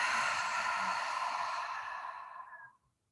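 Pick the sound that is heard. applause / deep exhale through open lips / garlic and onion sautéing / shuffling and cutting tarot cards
deep exhale through open lips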